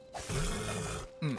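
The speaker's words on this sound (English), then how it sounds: "That's a bear." A bear in the video game Hytale gives a low, rough growl that runs for about a second, then breaks off into a second short grunt.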